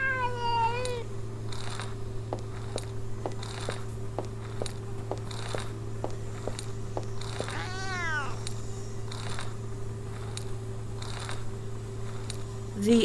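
Cat meowing in the video game Memoranda, one meow at the start and a drawn-out caterwauling cry midway, over a steady hum with soft rhythmic ticks.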